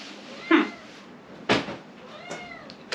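A cat meows several times in a hotel room, a loud close cry followed by a few shorter, fainter meows and a light knock or bump.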